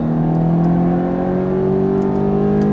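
Ferrari F430 engine pulling steadily under throttle on a track, a loud, close, continuous drone whose pitch climbs gradually as it accelerates.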